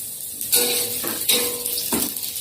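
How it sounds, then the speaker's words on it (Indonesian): Onions (bawang) being sautéed in a pan for a field snail (keong sawah) dish, loud steady sizzling with a few bursts of stirring and pan scraping, no talking. "kita tumis bawangnya"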